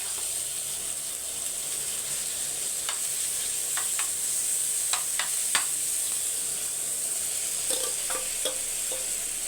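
Prawns sizzle steadily in a hot pan as they fry on a griddle, with a few scattered scrapes and taps from stirring.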